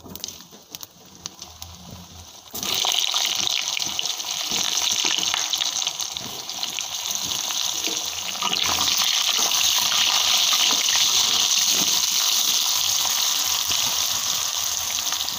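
Potatoes dropped into hot oil with cumin seeds in a wok, a quiet start that bursts into a loud, steady, hissing sizzle which carries on for about twelve seconds, close up with no voices.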